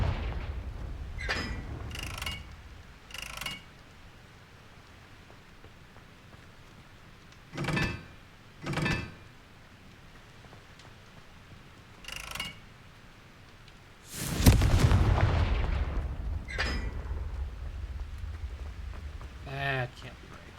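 The Confringo explosion spell in the video game Hogwarts Legacy bursts with a loud blast and then a long rumbling tail, set among short mechanical thuds and clunks from the game, with someone talking at points through the clip.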